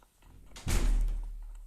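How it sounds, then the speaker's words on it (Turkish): A door is pushed closed with one dull, heavy thump and a low rumble that fades out slowly, heard at moderate loudness with no voices over it. "kapı kapat"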